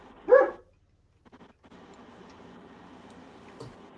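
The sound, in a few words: dog barking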